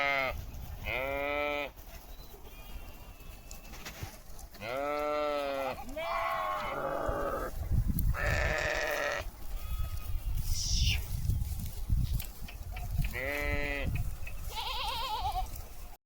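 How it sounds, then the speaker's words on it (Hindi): A flock of sheep and lambs grazing in the evening with Rajasthani herders in Chhattisgarh bleat again and again, with separate calls and some overlapping ones over soft outdoor background noise. "पूरा भेड़ के बच्चा मन हा पूरा आवाज़ करत"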